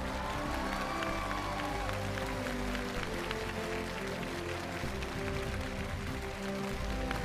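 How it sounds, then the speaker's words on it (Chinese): Studio audience applause on a televised challenge show honoring an honor guard cavalry team: dense, steady clapping filling the room throughout, with music playing underneath. "用我们的掌声，送他们进入这样一个特别的荣誉殿堂"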